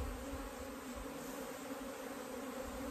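Honeybees swarm around a small comb in an old stump, a steady, dense buzzing that stays at an even level from start to finish with no voices.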